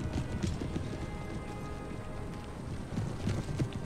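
Horses galloping in a Napoleon Total War multiplayer land battle, a rapid continuous patter of hooves at a moderate distance with brief louder bursts.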